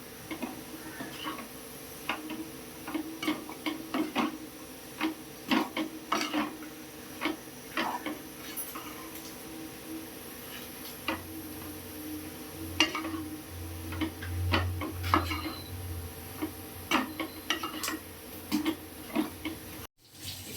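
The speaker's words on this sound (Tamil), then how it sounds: "இப்போ நல்லா மிக்ஸ் பண்ணிக்கலாம்" Homemade wheat noodles are mixed with white pepper in a bowl, making a steady run of light close ticking and clinking strokes with soft scraping and a low hum, and no talk.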